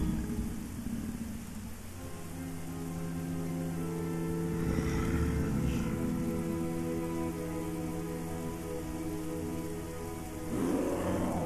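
Steady rain in a video game falls throughout, a dense even hiss with low rumbling underneath and a brief swell near the end.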